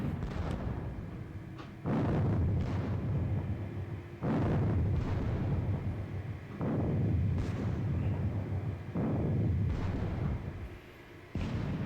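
Artillery fire in the video game Battle of Friedland: four or five heavy booming blasts, each a sudden loud thump that rolls on into a long rumbling decay, spaced a couple of seconds apart, with no voices.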